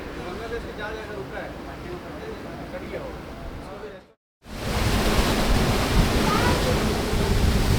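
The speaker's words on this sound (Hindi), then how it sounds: "तेज रफ्तार हवा चल रहा है और सी बहुत ही रफ है।" Strong wind and rough sea heard aboard a ship sailing from the Visakhapatnam coast toward Port Blair in bad weather, a loud continuous roar of wind and surging water that briefly cuts out, then returns even louder.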